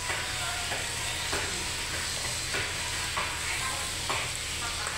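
Garlic fried rice (sinangag) sizzles steadily in a pan while being stir-fried, with repeated scraping strokes of the spatula breaking through the constant frying hiss.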